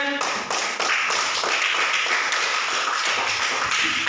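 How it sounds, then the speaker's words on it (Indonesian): Schoolchildren in a classroom clap their hands together in a loud, dense burst that carries on steadily for several seconds, with no talk over it. "Tepuk tangan anak-anakku sekalian."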